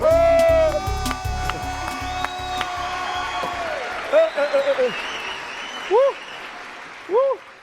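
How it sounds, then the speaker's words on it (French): A crowd claps and cheers loudly together near the start, with voices and scattered noise continuing as the applause fades and brief shouts follow. "Applaudissez pour eux"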